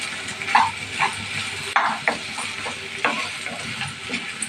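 Mashed potato being mixed with coriander masala in a pan for vada pav filling, a spoon scraping and stirring in close, irregular strokes with soft sizzling underneath.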